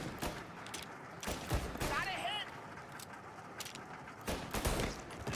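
Gunfire in the Mafia Definitive Edition remake comes in several sharp shots spread across the moment, fairly quiet overall, with a voice talking in between.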